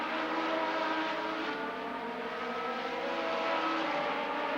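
Legends race cars roar around the Rockford Speedway oval during a spring classic race, a steady layered engine drone from several cars running close together, continuous and fairly distant with no break.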